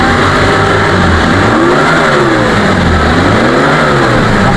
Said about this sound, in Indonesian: Ini mesinnya masih halus, masih oke.